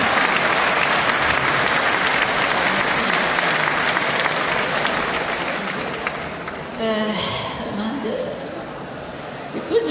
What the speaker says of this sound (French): Alors, on peut applaudir tous nos artistes ici présents ce soir.